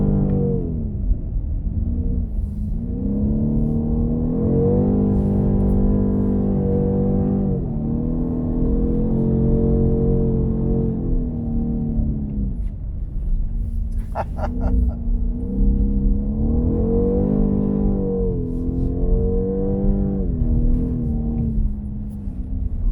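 Deep, rumbling engine note of a BMW M850i xDrive Coupé with a 530 hp engine, heard from inside during a ride, rising and falling through several acceleration pulls and gear changes, loud and continuous.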